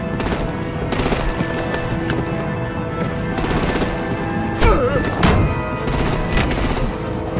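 Sustained machine-gun fire in the Batman: The Enemy Within video game, long rattling bursts with a couple of heavier impacts, loud and steady behind a game soundtrack, no talking.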